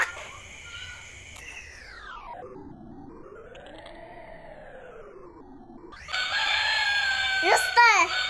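A rooster crows during an animal sound guessing game, a long rising and falling cock-a-doodle-doo. Loud, noisy chatter and commotion burst in right after it ends.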